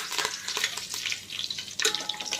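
Curry leaves frying in hot oil with mustard seeds and cumin for a thin-poha chivda tempering, giving a bright crackling sizzle with sputtering bursts and a spoon stirring close by.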